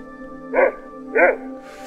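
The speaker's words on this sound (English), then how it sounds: "Boy, that dog's making a racket." A dog in Fallout 2 gives two loud, close barks about half a second apart, each a short voiced bow-wow over a steady electronic hum.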